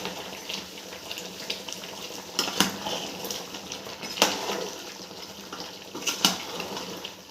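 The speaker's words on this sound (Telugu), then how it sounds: "ఇప్పుడు పచ్చివాసన పోయేంత వరకు ఒకసారి కలుపుకొని ఉడికించాలండి" Ginger garlic paste being stirred into a large 4 kg pot of mutton curry, a soft continuous wet churning with a few sharp metallic scrapes and clinks of the spoon against the pot.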